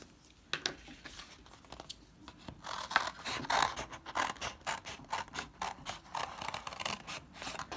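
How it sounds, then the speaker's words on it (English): Scissors snip out a paper design in a close, steady series of short cuts, crisp repeated clicks and rustles of paper quickening into a regular rhythm, with no talking. "It's easier to cut out if I have a smaller piece."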